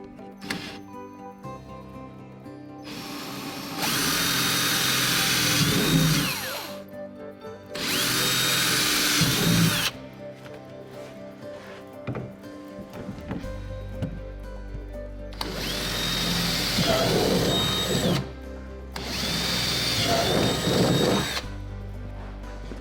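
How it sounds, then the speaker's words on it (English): A power drill bores bracket holes from the bottom up through an Otter XT Lodge fish house, running in several loud bursts of a few seconds each with brief pauses and handling noise between them. "it's easier to drill them from the bottom up through the top."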